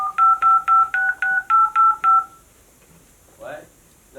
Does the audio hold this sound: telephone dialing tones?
yes